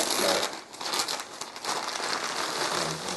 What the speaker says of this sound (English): I shall not spare the wrapping paper.